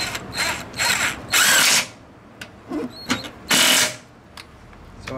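A torque wrench ratchets while tightening a steering gear bolt on a 1978–1996 Ford/Lincoln/Mercury Panther-platform car, producing several loud, close bursts of rapid clicking separated by short pauses and a few lighter metallic taps.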